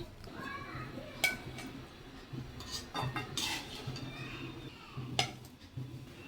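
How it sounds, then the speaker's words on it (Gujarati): A spoon stirs papaya pieces in a pot to drain off the sugar syrup for tutti frutti, giving light scraping and a few sharp metallic clinks, close and quiet. "આ રીતે ચમચો હલાવીને વધારાની ચાસણી નિતારી લેવાની."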